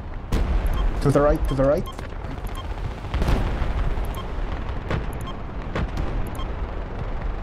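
Gunfire in the military video game Project Reality during a lighthouse defense: repeated sharp shots and bursts, some close and loud, over continuous battlefield rumble, with someone speaking briefly over the top.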